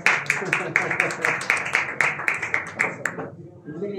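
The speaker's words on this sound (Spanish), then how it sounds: "Denle el aplauso" Audience applause at a press conference for an arena anniversary, a run of sharp, evenly spaced claps carried over steady talk beneath, fading out near the end.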